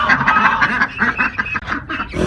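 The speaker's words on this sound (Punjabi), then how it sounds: "ਬੱਤਖਾਂ ਨੇ ਰੋਲਾ ਪਾ ਕੇ ਮੇਰਾ ਇਸਤਕਬਾਲ ਕੀਤਾ।" A flock of ducks on a farm quacking loudly, a rapid run of overlapping harsh calls in quick bursts, close and noisy, ending in a short rustle.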